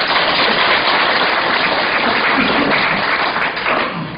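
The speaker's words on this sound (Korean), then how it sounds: "다시 한번 큰 박수로 맞이해 주시기 바랍니다" Sustained crowd applause at a redevelopment association general assembly in a hall, a steady dense wash of many hands clapping, loud and continuous throughout before fading slightly at the end.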